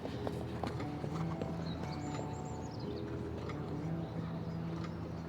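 A horse's hooves clip-clop steadily in a dressage test at a five-star eventing competition, the rhythmic footfalls set back in the arena beneath a commentator's voice and faint background noise.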